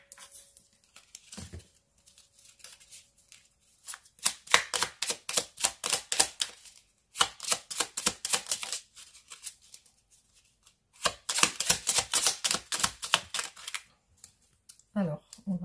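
Small oracle cards are shuffled and laid out in several bursts of rapid, crisp riffling and flicking, close and fairly loud, broken by short quiet pauses, with a brief spoken remark near the start.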